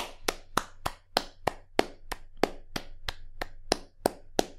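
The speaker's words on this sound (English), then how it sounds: "Once again, let's do another round of applause." Single-person clapping as a round of applause, about fifteen sharp, evenly spaced claps close to the mic.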